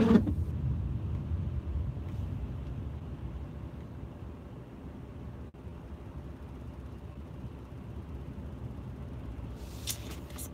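Road traffic rumbles as a steady low, muffled drone heard from inside a car, with a faint brief sound near the end.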